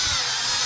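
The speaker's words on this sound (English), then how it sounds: "I just wiggled the twist drill around a little bit to break that seal there" Twist drill bit worked back and forth to break a seal on a Ford Escort / Mercury Tracer AC relay CCRM module, giving a loud, steady, broadband grinding rasp close by with no talking.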